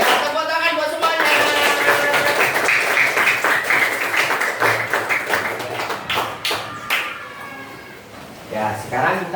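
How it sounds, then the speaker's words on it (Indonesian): A classroom group claps hands together in a busy, uneven burst of applause with distinct sharp claps, close and loud, fading somewhat toward the end, while voices talk and call out over it. "tepuk tangan buat semuanya"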